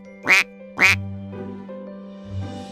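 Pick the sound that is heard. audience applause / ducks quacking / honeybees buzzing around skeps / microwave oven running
ducks quacking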